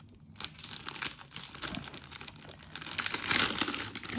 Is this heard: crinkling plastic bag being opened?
yes